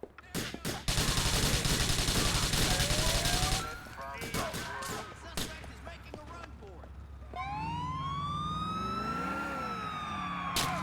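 Police siren during a car chase in the video game GTA IV, wailing loudly after dense gunfire bursts, rising and falling near the end of the clip, with no speech.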